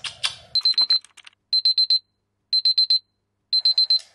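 A bedside alarm clock beeping in rapid bursts of about five electronic tones, each burst followed by a short pause and repeating, loud and close, with a brief rustle at the start.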